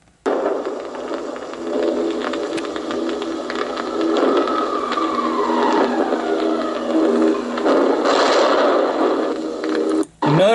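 Bombing sound effects from war footage of Cologne: a dense, roaring rumble with a descending whistle, like a falling bomb, then a burst near the end, loud and continuous over a noisy old soundtrack.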